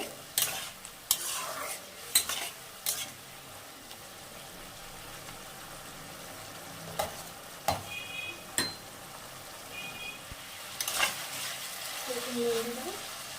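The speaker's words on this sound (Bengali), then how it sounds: "মিডিয়াম টু হাই ফ্লেমে এটা কষিয়ে নেব।" Potatoes frying in a pan over a medium-high flame, with a low, quiet sizzle under scattered scraping clicks of a spatula stirring, a few clustered at the start and others spread throughout.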